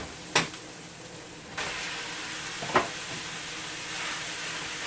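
Ground meat hits a hot frying pan and sizzles with a soft, steady hiss, broken by a few faint knocks and scrapes, no talk.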